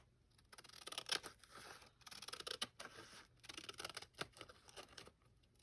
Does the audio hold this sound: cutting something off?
yes